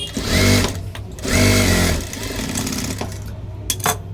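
A sewing machine runs loud and close in two short bursts of fast, buzzing stitching on a folded blouse strip, then settles to a lower hum with a couple of clicks.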